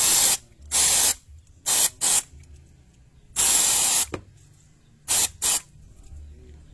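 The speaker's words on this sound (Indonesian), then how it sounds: "Kita cek dulu, maksudnya kita semprotkan dulu." Cleaner is sprayed onto the injection parts of a Honda Beat scooter in six loud, close hissing bursts of varying length, with quiet gaps between them.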